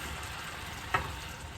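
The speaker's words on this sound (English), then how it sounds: "Hopefully y'all can hear me over the sizzling." A quiet, steady sizzle of birria broth bubbling in a hot pan, with one brief louder spit partway through.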